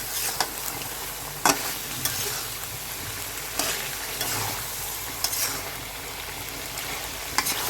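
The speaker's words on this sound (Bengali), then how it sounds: "নাড়াচাড়া করে এইভাবে কষিয়ে নেব" Chicken masala stirred and cooked down in a pan, a steady close sizzle and frying hiss broken by repeated scraping strokes of the spoon, with no voices.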